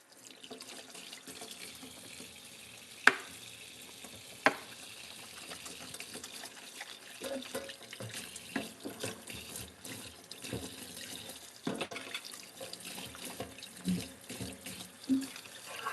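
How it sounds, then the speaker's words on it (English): Water runs steadily from a kitchen tap while hands are washed, a continuous hiss broken by a few sharp knocks and splashes, fairly close, with no talking. "Wash my hands."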